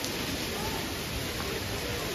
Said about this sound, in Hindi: ओले पड़ रहे हैं गाइस